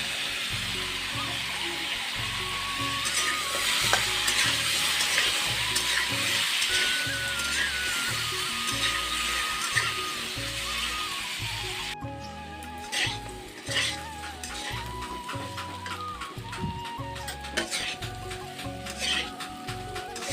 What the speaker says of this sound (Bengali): আলুটা লাল করে ভাজা হয়ে গেছে